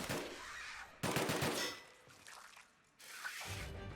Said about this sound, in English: You're shooting at the walls.